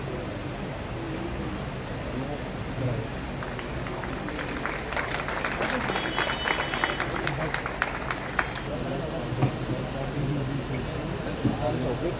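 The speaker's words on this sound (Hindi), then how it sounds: "एक बार जोरदार तालियां इन सभी" Applause from an audience at an education student meet-up, a broad wash of clapping rising in the middle under ongoing speech and crowd murmur, fairly distant and steady throughout.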